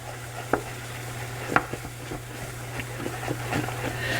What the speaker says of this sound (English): And we're just going to stir that constantly here for a moment.